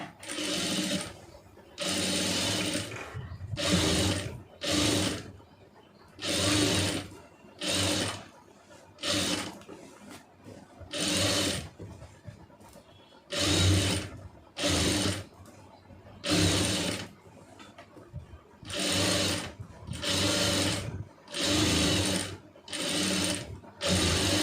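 A sewing machine stitching a blouse runs in repeated bursts of rapid mechanical whirring a second or two long, separated by short pauses, close and clear with little else audible.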